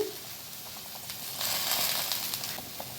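Okra in mustard paste simmers in a pan over a very low gas flame, a soft steady sizzle and faint bubbling hiss that swells slightly midway, close and quiet.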